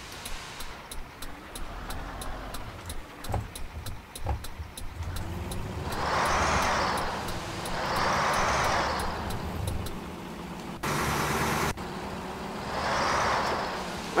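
A Ural 4320 military truck in Euro Truck Simulator 2, its engine heard loud from inside the cab, with a continuous low diesel rumble and repeated rising roars as it revs, plus scattered clicks early on.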